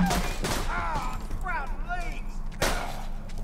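Gunfire in Borderlands 2 comes as sharp, loud shots at the start and another burst near the end, between whirring weapon and mechanical effects, with someone talking over the game.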